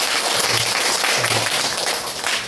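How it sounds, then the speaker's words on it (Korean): A church congregation applauding to welcome a visitor, a dense, close, steady clatter of many hands lasting a couple of seconds with no speech over it. "여기 박수로 환영해 주실까요?"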